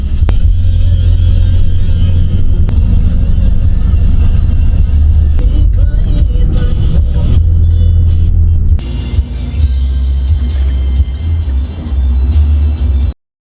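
Inside a bus travelling to Phuket, a loud low engine rumble drones steadily throughout, with sharper knocks and clatter along the way before the sound stops abruptly at the end.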